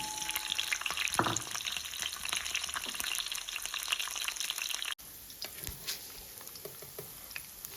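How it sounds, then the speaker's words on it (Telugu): Drumstick pieces frying in oil in a pan with a tempering of curry leaves, green chilies and garlic, giving a steady close crackling sizzle with occasional stirring scrapes and a brief pause partway through. "ములంకాయలు కొద్దిగా సగం వేగిన దాకా వేగించుకోండి."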